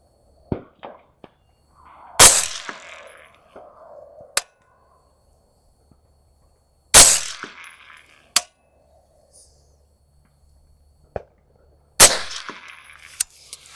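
A suppressed LMT rifle fires four spaced, sharp cracks outdoors, each with a short tail, separated by several seconds of quiet, plus faint metallic clicks and brief handling noises.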